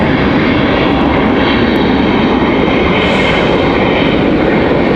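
A jet airliner arriving at Raleigh-Durham International Airport roars steadily overhead, a broad, loud engine rumble that holds throughout without any talking.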